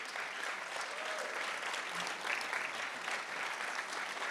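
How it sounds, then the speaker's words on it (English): Audience at a Croydon civic event giving a round of applause, a steady, dense clapping that stays even from start to finish, with faint voices mixed in. "So just give them a round of applause, please."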